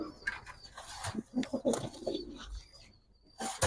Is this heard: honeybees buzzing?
no